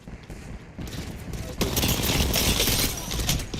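Dense, sustained bursts of enemy weapon fire in the video game Apex Legends, rattling continuously at close range and swelling louder midway, with crackling impacts layered throughout.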